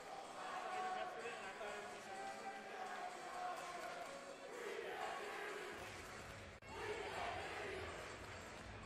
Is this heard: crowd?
yes